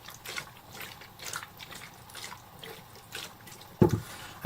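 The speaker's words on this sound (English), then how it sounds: "Okay, put the lid on, and I'm going to agitate the fixer." Fixer sloshing inside a lidded black-and-white film developing tank as it is agitated, soft liquid swishes and gurgles in irregular waves ending with a sharp knock, heard up close and alone.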